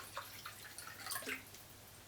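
Carbon-filtered water is poured into a spirit made with a Still Spirits Air Still Pro, giving faint, close trickling and dripping splashes throughout with no talk.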